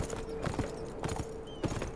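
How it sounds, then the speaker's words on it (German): Horse hooves from the video game Beyond Two Souls clop in quick, uneven bursts of close, muffled hoofbeats over a faint game-soundscape background, with no speech. "Pferd ist nicht leicht zu kontrollieren."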